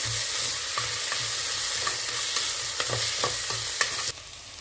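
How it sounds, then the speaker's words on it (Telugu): Spice paste fries in hot oil with a steady close sizzle as a spoon stirs it in regular strokes, each scrape clearly audible before the hiss drops away at the end. "ఈ నూనెలో బాగా ఎర్రగా అయ్యేంతవరకు కలుపుతూ ఉండాలి, లేకపోతే అడుగంటుతుంది"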